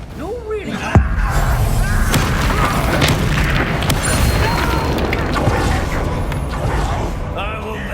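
The Incendio fire spell being cast in Hogwarts Legacy, a sharp booming burst followed by a dense, sustained roar of combat effects, with a voice speaking over it.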